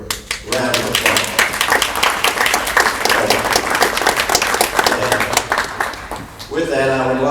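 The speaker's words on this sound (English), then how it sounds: "They deserve a round of applause." A town hall meeting audience breaks into a loud round of applause, a dense crackle of many hands sustained for several seconds. Voices speak over it near the start and again at the end.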